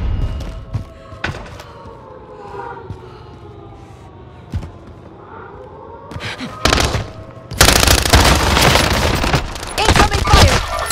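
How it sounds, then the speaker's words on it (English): Gunfire in Warzone on Rebirth Island: scattered loud single shots and thumps, then a dense burst of rapid automatic fire near the end, up close and sharp, with voices heard along the way. "Incoming fire!"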